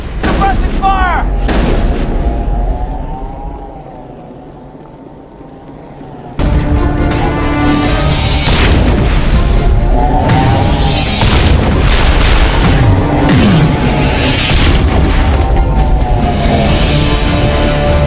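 Mass Effect battle with booming gunfire and explosions, loud heavy blasts and bursts of shooting, a brief lull, then sustained intense fire with voices mixed into the combat.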